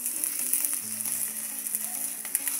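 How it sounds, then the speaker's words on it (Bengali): Potato filling for samosas fries in about a tablespoon of oil, giving a continuous, even hiss of sizzling close by, with faint low hum beneath and no voices. "দিয়ে এটাকে একেবারে শুকনা শুকনা করে ভাজতে হবে"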